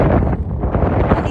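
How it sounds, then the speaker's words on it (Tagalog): Strong wind buffets the microphone at Buhais Geological Park in Sharjah, a loud, constant low roar with gusty fluctuations throughout. "malakas nga ang hangin"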